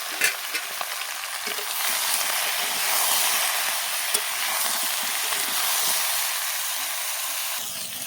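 Eggplant frying lightly in hot oil, salted and turmeric-coated; a steady, dense sizzle and hiss runs throughout with occasional small pops, close and alone.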